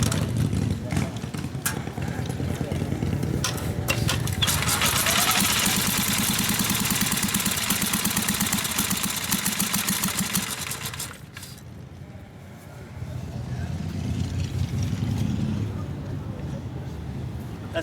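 An old 1912 Harley-Davidson Emblem racer motorcycle engine chugs and runs loudly nearby, fading briefly before picking up again, while people talk around it.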